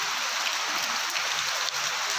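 Heavy rain falls as a dense, continuous hiss of downpour, fairly close and steady throughout, with no voices.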